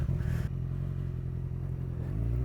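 A motorcycle engine drones steadily while riding, a low, even rumble with a brief louder rev at the start and a slight drop in pitch near the end, close to the microphone with no talking.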